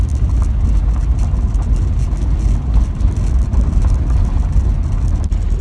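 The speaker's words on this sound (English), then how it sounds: "That's just driving down my driveway." A car driving slowly down a dirt driveway, a continuous low engine rumble and road noise heard from inside the vehicle, loud and steady throughout.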